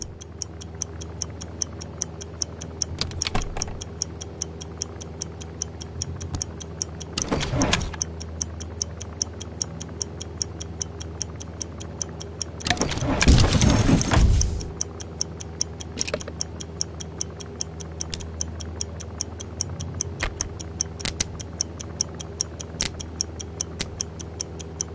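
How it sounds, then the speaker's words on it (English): Steady, rapid ticking of a time bomb in the game I Expect You To Die, an even mechanical tick running throughout, with a few louder whooshing or engine-like bursts breaking over it. "Oh, the old ticking bomb."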